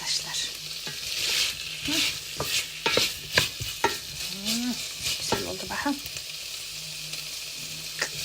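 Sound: tomato paste sautéing in a pan

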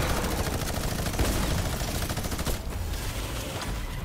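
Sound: minigun firing in the video game Fortnite

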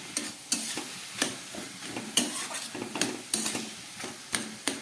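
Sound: stir-frying radish and potato in a pan

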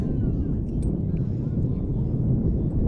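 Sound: wind

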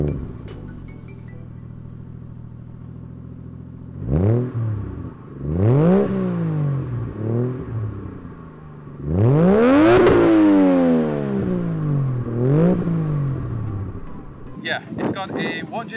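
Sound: Mazda RX7 with Toyota 1JZ engine starting and revving

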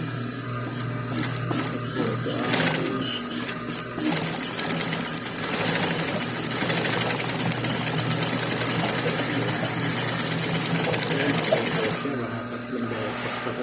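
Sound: sewing machine stitching

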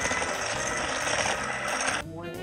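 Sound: electric hand mixer blending batter in a bowl

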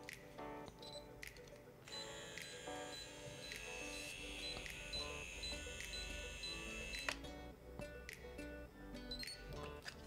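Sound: Edelkrone Slider One motorized camera slider calibrating

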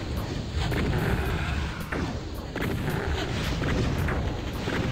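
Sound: exploding barrel in Doom video game

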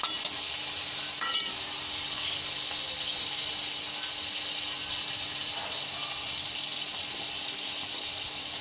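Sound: red chili paste frying in jackfruit curry

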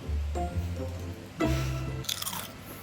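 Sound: eating crunchy fruit salad with salad cream

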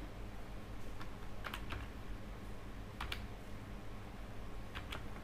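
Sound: typing a student's name on a computer keyboard

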